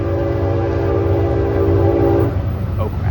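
Train 8101 sounds a loud, sustained horn blast over the steady rumble of the train, with the horn cutting off shortly before the end while the engine noise continues in pouring rain.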